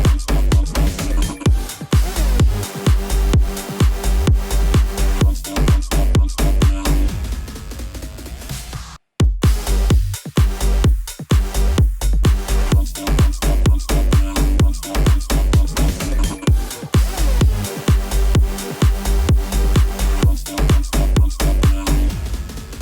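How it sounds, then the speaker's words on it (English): Electronic dance drop built entirely with FL Studio stock plugins, pounding steady kick and bass pattern with dense synth layers, loud and continuous apart from a brief cut just past nine seconds, no talking. "do a drop using only FL Studio native plugins"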